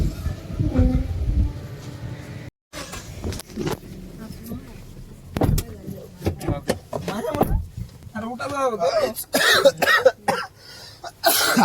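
Someone coughs a few times while stopped to refuel with CNG at a filling station, the short bursts scattered among nearby voices and passing traffic noise.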